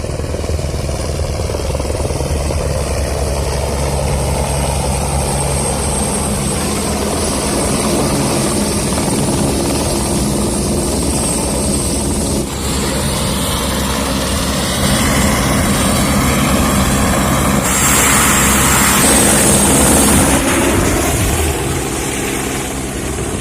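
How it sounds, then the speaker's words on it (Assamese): At the Dwijing Festival, a helicopter flies nearby with a loud, continuous rotor throb and engine whine that swells and shifts in pitch as it passes overhead. "আহিলো দেজিং ফেষ্টিভেলৰ মূল আকৰ্ষণ হেলিকপ্টাৰ"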